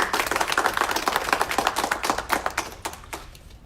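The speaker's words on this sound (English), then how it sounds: "Let's give them a huge round of applause for their efforts." An audience claps in a press briefing at a historic Masonic Temple, with a fairly sparse run of sharp, distinct hand claps that thins and fades out over nearly four seconds.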